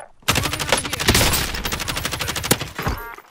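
Rapid automatic gunfire crackles in a Call of Duty Warzone match, dense bursts of shots running almost the whole time with a sharp louder crack near the end, close and loud.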